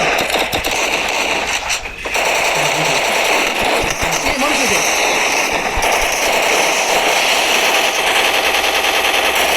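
Loud, dense bursts of rapid gunfire and crackling blasts in Free Fire run continuously, with a few muffled voices mixed into the din.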